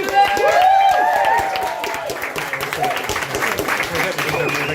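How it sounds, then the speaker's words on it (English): A comedy club audience in York applauds and cheers to welcome a comedian onto the stage, steady clapping filling the room after a loud announcer's voice. "please give a massive round of applause to Jeanette-Wheatley!"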